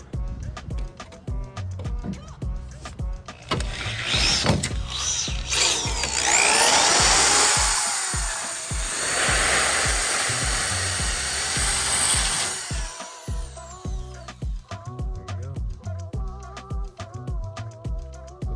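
A power drill bores out rivets on a Ford Econoline E350 window regulator, with a loud whining grind that rises and strains for several seconds, then clicks, taps and handling noises around it and a voice speaking in between.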